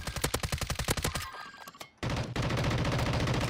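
Rapid automatic gunfire in Warzone, with a quick rattling burst of shots, a brief lull, then another sustained volley, loud and close.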